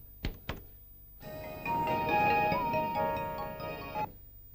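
A phone ringtone plays steadily for about three seconds with a bright, tonal melody, preceded by two sharp knocks.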